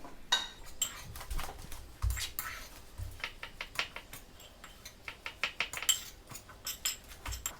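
Chili flakes being mixed into kimchi sauce in a bowl, with a steady rhythm of close clinks and scraping taps from a utensil against the bowl throughout.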